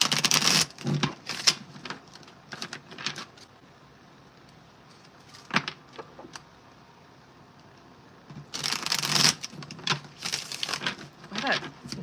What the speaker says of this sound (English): Why that deck is so hard for me to shuffle right now.